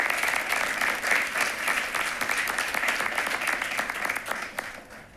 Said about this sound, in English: Round of applause for those individuals